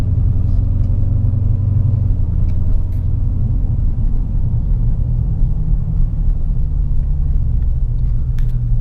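A supercharged 800 rwhp Dodge Challenger Hellcat cruising, with a loud, steady low engine drone and a continuous rumble filling the cabin throughout, without sharp revs or voices.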